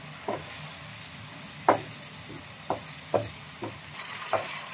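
Chicken masala with chopped tomatoes frying over a medium flame: a soft, low sizzle runs throughout, broken by about seven sharp scraping stirs of a spoon against the pan at irregular intervals.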